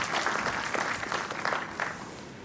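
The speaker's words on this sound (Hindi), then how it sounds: "जोरदार तालियों में" Applause at a university convocation ceremony in Srinagar, with a crowd's dense clapping rising and falling steadily for a few seconds with no talking.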